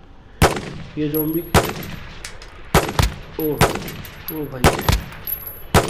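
Gunfire from shooting zombies in Call of Duty Modern Warfare 2 on mobile: a run of sharp, loud shots in irregular bursts, with someone talking excitedly between them.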